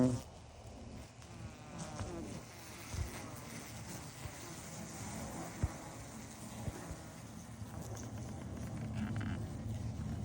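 Honey bees hum steadily inside a top bar hive during a night inspection, a faint, continuous drone with occasional soft knocks and rustles from handling. No one speaks.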